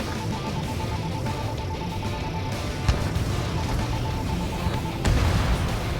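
Bombs exploding in Ace Combat 7, heard as a dense continuous rumble with two sharp blasts, one midway and a heavier one near the end, over a constant tone.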